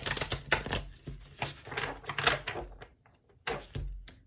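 Tarot cards are shuffled in short bursts of riffling and slapping, several rapid flurries separated by brief pauses, close and fairly loud with no speech.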